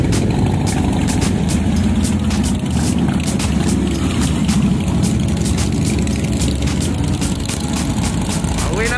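Several heavy Harley-Davidson motorcycle engines idle together in a loud, continuous rumble, with occasional ticking and clicking sounds over the low throb.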